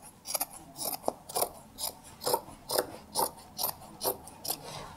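Scissors cutting off a fabric hem for a recycled braided choker: about a dozen crisp, evenly spaced snips, close and fairly loud, with no talk.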